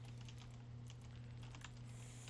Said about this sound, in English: Oh my gosh, I cannot type.